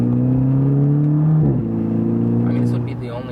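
A 2014 Volkswagen GTI with a DSG dual-clutch automatic and modifications accelerates hard, its engine note climbing, dropping at a quick gearshift and climbing again, loud and close from inside the car.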